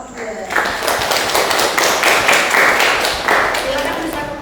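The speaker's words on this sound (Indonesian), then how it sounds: "Tepuk tangan untuk kelompok 2." A classroom group applauds a student group during a teacher-training session, with brisk, steady hand clapping lasting several seconds, mixed with chatter and cheering voices close by.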